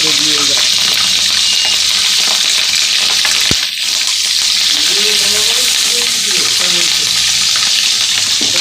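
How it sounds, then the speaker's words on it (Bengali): Fish frying in a wok, a loud dense sizzle that runs continuously and close up, with a sharp clatter partway through and some faint stirring movement. "মাছগুলো সব এরকমভাবে ভেজে নিলাম"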